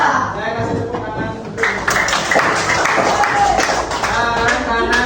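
Students in a classroom break into applause, a burst of many hands clapping that rises partway through and carries on steadily with voices mixed in.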